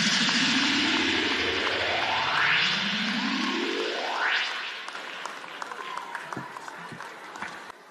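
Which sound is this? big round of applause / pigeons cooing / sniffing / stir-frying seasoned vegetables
big round of applause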